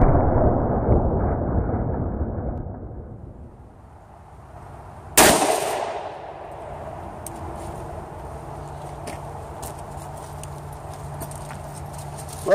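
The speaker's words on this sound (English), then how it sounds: "All right, so we're going to step about 10 feet back and shoot it." A single loud, sharp pistol shot from about ten feet, a .45 fired with Ruger ARX ammunition into a bare ballistic gel block outdoors, cracks out after a quiet stretch and fades into a low lingering hum and faint background noise.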